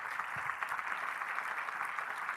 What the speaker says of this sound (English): Can we have a round of applause to this man,